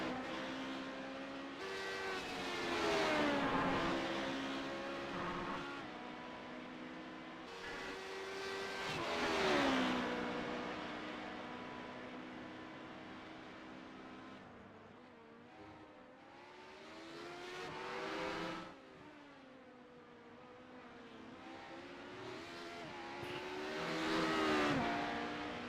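Race car engines in iRacing's 24 Hours of Le Mans endurance event, LMP2 class, rising and falling through repeated acceleration and gear changes. The cars pass by in loud sweeps over a continuous engine drone.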